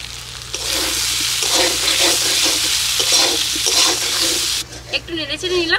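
Diced potatoes and tomatoes fry with a ground green chilli and ginger paste, turmeric and salt in a village kitchen. A loud, continuous sizzle with stirring scrapes runs throughout, with a voice near the end.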